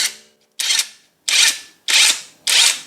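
A SOARFLY 1/2-inch cordless impact wrench run in four short loud bursts, each a whirring motor spin that cuts off abruptly with a braking stop, close up with no voices.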